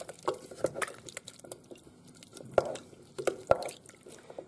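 Butternut squash soup ingredients being stirred together with vegetable stock, a scattering of soft liquid drips and light clinks against the pot at an uneven rhythm, close and quiet.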